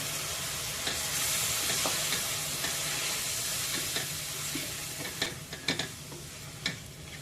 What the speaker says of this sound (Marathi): एखाद मिनिटभर कोळंबी या मसाल्यांमध्ये परतून घेऊया।